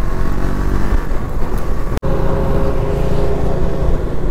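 Road traffic of cars and large trucks crosses a bridge over the Tapi river, a close, continuous rumble of engines with one sharp thump partway through.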